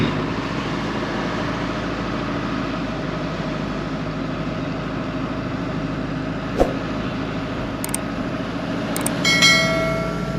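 Steady low rumble of a train at a crowded railway station in Ella, Sri Lanka, on a rainy day, continuous and moderately loud with a few brief clanks and a rising surge near the end; no talking.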